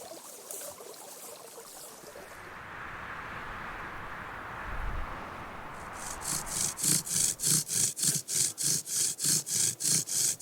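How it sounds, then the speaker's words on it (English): A quiet scraping rub gives way to steady rhythmic back-and-forth friction, a bow drill's wooden spindle whirring on wood in quick regular strokes, close up and growing louder. "I decided to use the bow drill method this time"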